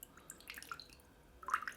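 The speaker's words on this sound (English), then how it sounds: "just push the water through until the water starts running clear" Water squeezed through a fountain pen nib, a TWSBI 580ALR being cleaned of crusty black ink, producing faint, close drips and small splashes, with a brief louder spatter near the end.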